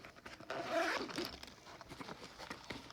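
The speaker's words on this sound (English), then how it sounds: "This zipper guy." A zipper on a pocket of a Milwaukee Packout tech bag is pulled open in one quick, close rasp, followed by light rustling of the bag.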